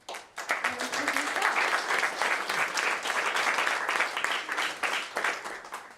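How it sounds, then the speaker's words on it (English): A conference audience at a blockchain event in Berlin applauds a speaker, a dense and steady burst of many hands clapping that holds for several seconds before tapering off. "So if you give him a round of applause"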